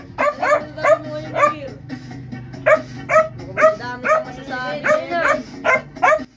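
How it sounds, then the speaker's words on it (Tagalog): A dog barks repeatedly at a year-end celebration, sharp yelping barks in quick irregular bursts, close and loud, over a low steady hum. "At panay tahol nga yung aso namin dyan"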